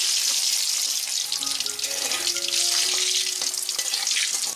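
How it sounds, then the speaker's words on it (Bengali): Potato pieces fry in hot oil for a Bengali chui jhal chicken dish, giving a steady, close hiss with scattered crackles and faint clinks of utensils throughout. "আমাদের তেল গরম হয়ে গেছে আমরা আলুর টুকরোগুলো দিয়ে দিচ্ছি আলুগুলো আমরা ভালো করে লাল লাল করে ভেজে নেব"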